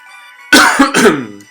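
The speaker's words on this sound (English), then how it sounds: "Sorry for the coughing" Two harsh coughs in quick succession, close and loud, after a quiet moment with faint background hum.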